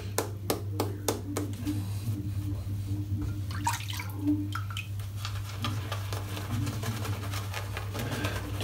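A shaving brush dipped in water during a head shave, a series of sharp drips and splashes at first, then soft wet swishing and squishing over a steady low hum, close and moderately quiet.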